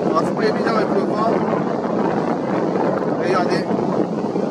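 Wind buffeting a microphone on a boat near Cassis, a loud continuous rumbling roar with gusty surges and no clear talk.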